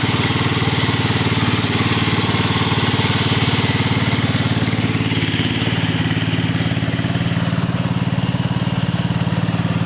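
Walk-behind articulated tractor pulling a plough across very wet soil, its small engine running steadily and loudly up close, a continuous even drone with a rattly low pulse and no pauses.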